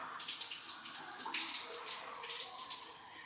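Water from a shower runs steadily behind a framed glass panel, a faint continuous hiss and spatter with no talking.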